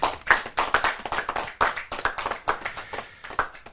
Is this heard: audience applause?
yes